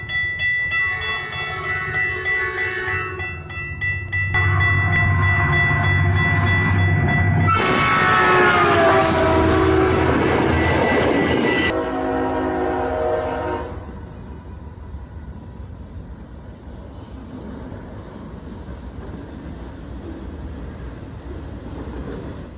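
A train rolls past a level crossing with a loud, continuous rumble of wheels and cars, and a long, blaring horn sounds in the middle before the noise settles into a steadier, quieter roll.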